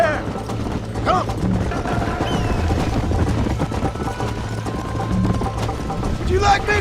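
A horse gallops in the Western video game Red Dead Redemption, with steady clip-clop hoofbeats under continuous rumbling game audio and a rider calling out over it.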